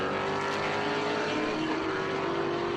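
Vintage race cars including a Mustang, Camaro and Corvette racing at Watkins Glen, loud continuous engine howl with a passing car's pitch sweep, no talking.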